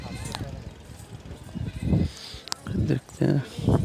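Sheep from Larkana bleat in short bursts at a crowded livestock market in Karachi, partly masked by someone talking nearby and general market bustle.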